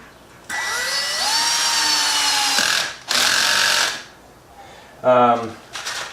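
A power drill drives stainless screws into hinges on a boat hatch, with a loud close whine that rises in pitch over about two seconds, a second sustained burst, then a short stuttering run near the end.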